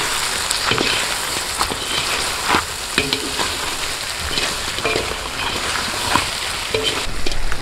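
Jumbo prawns are stirred in a chili butter garlic sauce while cooking outdoors. A loud, continuous sizzle runs throughout, with scattered scraping and clinking from the stirring utensil against the pan.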